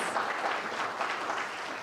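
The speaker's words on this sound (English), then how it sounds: "the second big applause is for ourselves" A conference audience applauds in a brief, steady burst of clapping from a large hall crowd at a closing plenary session, with no talk.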